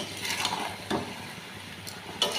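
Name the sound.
stirring hilsa-head vegetable curry in a pan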